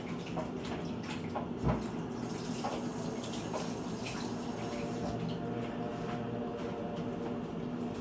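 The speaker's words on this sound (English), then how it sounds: "I gotta wash hands again" Water running steadily from a kitchen tap while hands are washed during homemade sauerkraut preparation, a constant splashing rush lasting the whole stretch with no talk.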